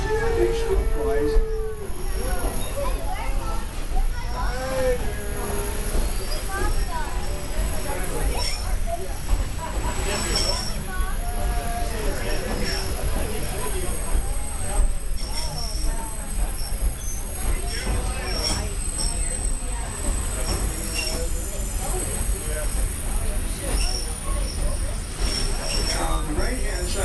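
A Virginia & Truckee Railroad train rolls along steadily with wheels squealing in intermittent high-pitched curves, heard continuously beneath someone narrating.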